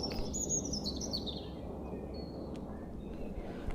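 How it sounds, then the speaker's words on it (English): Willow warblers singing in a birch wood in spring, with short high chirping phrases at the start and brief faint calls later, heard over a steady low outdoor rumble. "the first willow warblers are warbling"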